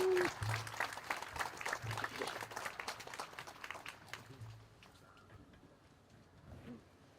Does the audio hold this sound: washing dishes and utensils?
no